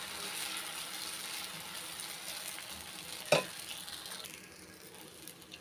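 Thanjavur orappu adai frying on a hot pan, a steady soft sizzle throughout with one sharp clack partway as the batter cake is turned, the crackle easing slightly afterward.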